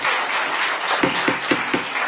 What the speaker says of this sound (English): Not supposed to clap.